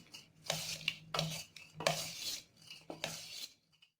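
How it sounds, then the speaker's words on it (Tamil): Steamed chana dal being mixed with jaggery, several scraping, rubbing stirs of a spoon against a vessel in uneven bursts, moderately close, with no talking. "இப்ப இதோட 1 கப் வெல்லத்தை போட்டுக்கலாம். நல்லா மிக்ஸ் பண்ணிக்கலாம்."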